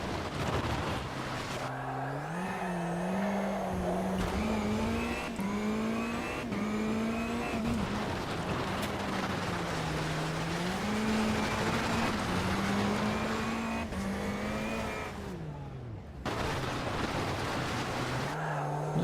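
A rallycross car in the Automobilista 2 racing game drives and drifts, its engine droning and revving steadily up and down throughout, with no talk over it.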